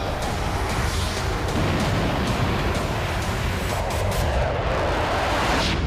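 Heavy, continuous roar of Russian shelling in Ukraine, a loud dense rumble with repeated blasts blurring together, recorded close and with no voices over it.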